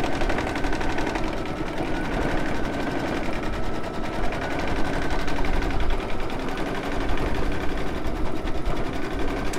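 A machine embroidery machine runs a satin stitch, a dense, rapid mechanical rattle of needle strikes that holds steady and loud throughout with no pauses.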